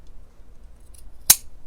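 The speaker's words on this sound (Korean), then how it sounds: "시접은 좀 잘라주세요." Scissors trim the fabric seam allowance while sewing wide two-tuck slacks, giving a single sharp, close snip near the end of an otherwise quiet moment.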